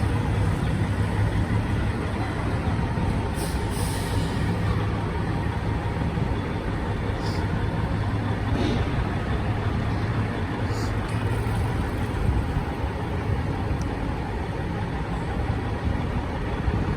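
Downtown Toronto rush-hour traffic on a Friday evening around a stopped 18-wheeler truck, a dense continuous rumble of idling engines close by, with faint higher hiss and occasional brief sounds over the steady drone.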